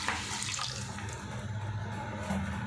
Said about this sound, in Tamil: 170 கிராம் சேமியாவுக்கு 400 ml தண்ணி ஆட் பண்ணிடுவோம்.